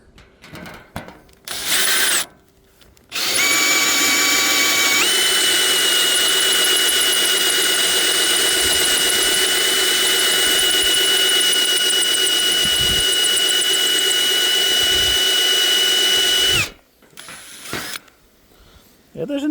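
A power drill whines at high speed for a long stretch while drilling into a meteorite, its pitch stepping up once, with short pauses and scraping handling noises before and after.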